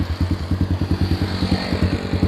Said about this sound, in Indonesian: Kita akan dengar suara dari knalpotnya ya guys ya.